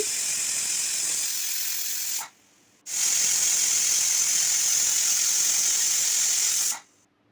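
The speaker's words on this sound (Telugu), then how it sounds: "హై ఫ్లేమ్ మీద ఒక విజిల్, తర్వాత మీడియం ఫ్లేమ్ మీద మరో 2 విజిల్స్ వస్తే చక్కగా ఉడికిపోతుంది" A pressure cooker of rice for curd rice whistles on the stove: a steady, loud, high-pitched hissing shriek that breaks off briefly, then resumes in a longer second burst before stopping.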